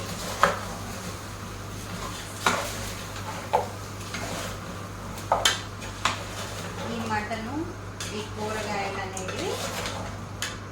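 A spoon mixes mutton curry in a metal pot, giving sharp intermittent clanks and scraping knocks against the pot's sides, while a voice talks quietly in the background.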